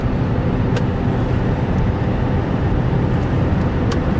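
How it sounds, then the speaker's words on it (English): Cars pass on a road at night around one in the morning, a steady loud broadband rush of traffic noise throughout, with a couple of brief higher swishes. "Boy, a lot of cars out tonight."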